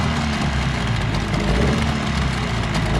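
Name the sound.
jon boat outboard motor running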